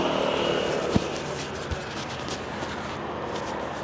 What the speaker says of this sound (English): he's just landing the drone